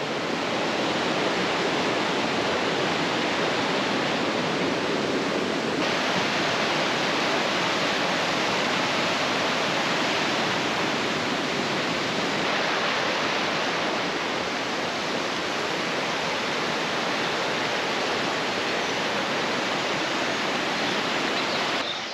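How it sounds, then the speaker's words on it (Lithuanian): A fast, clear mountain stream on the Tour du Mont Blanc rushes continuously, a loud, dense roar of churning water that holds steady throughout. "Nu jo, srovė tai čia žiauriai."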